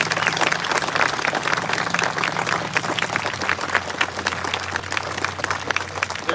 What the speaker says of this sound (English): Let's give a great round of applause for the 101st Airborne Division Air Assault Band